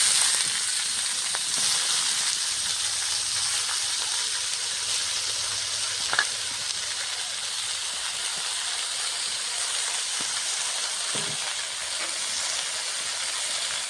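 Chopped bitter greens hitting a hot pan with fish, a loud continuous sizzle and steamy hiss that holds steady close up, with a faint clink now and then.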